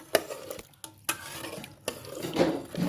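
Scraping and clattering of a utensil stirring Lao om-style stew with bird meat in a pan, with sharp metallic knocks at intervals and a soft sizzle underneath.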